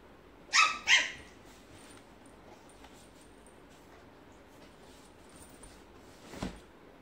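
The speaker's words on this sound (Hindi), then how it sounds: "ये भौंकने की आवाज, एक नया मेहमान आया है" Two quick, sharp dog barks close by, followed by quiet, then one fainter bark or yip a few seconds later.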